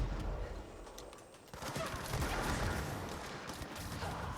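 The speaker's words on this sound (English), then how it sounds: "Hey, stop launching grenades." Grenades launched and exploding in the video game Control, a dense roll of loud blasts and gunfire-like bursts growing heavier after a brief lull, with no voices.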